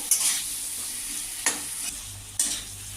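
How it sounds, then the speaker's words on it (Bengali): Masala spices fried and stirred in a pan while cooking a banana-flower fritter curry, a soft continuous sizzle broken by three sharp scraping stirs of a spoon, close and clear, with no voices. "আর একটু লাল নেড়ে চেড়ে মোটামুটি মশলাটা কষে গেছে"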